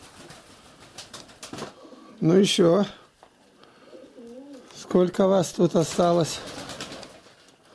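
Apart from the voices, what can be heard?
pigeons cooing in a dovecote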